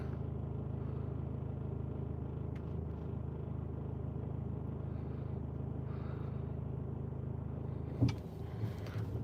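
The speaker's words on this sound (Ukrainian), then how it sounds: "Так, шумить. У нас кліма." A car's air conditioning runs with a constant low hum and airy whoosh, steady throughout, broken only by a brief knock near the end.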